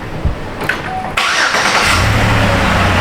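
A Chevy Impala that sat unused for two years cranks briefly, then catches and fires up, settling into a loud, steady running idle close by, with no talk over it.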